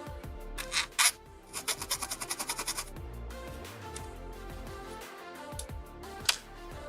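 A small plastic Gunpla kit part, a 1/144 HG Bandai Gundam AGE-3 Orbital piece, is sanded by hand in quick close rhythmic strokes, a run of rapid scratchy rubs followed by quieter intermittent scraping.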